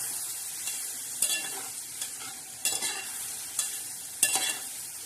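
Chana dal frying in a pan and being stirred, with a soft continuous sizzle broken by several sharp scraping strokes of a spoon at irregular intervals.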